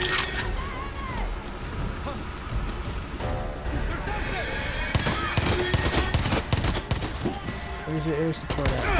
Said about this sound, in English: I don't know what you're shooting at.